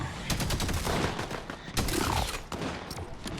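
A shoulder cannon fires in the video game Fortnite, a rapid volley of sharp blasts and bursts with a few heavier hits, quiet and distant in the game mix, no talk.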